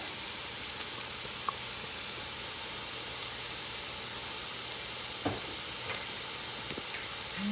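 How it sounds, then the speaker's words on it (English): Onions with chili powder and black pepper sizzle steadily in a pan for a Kerala-style chicken roast, a continuous close hiss with a few faint scrapes of stirring and no voices. "Mix all these ingredients with the onion."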